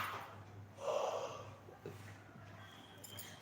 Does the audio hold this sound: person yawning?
yes